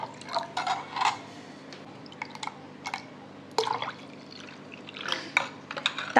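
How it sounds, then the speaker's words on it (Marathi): Water being poured into thick, spiced buttermilk (masala chaas) in a home kitchen, giving soft intermittent liquid splashes and dribbles over a low background hum, close by, with no talking. "हे ताक खूप घट्ट आहे, आपण यात पाणी घालू"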